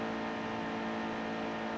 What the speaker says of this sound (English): is that the other Brad Keselowski car low on the track?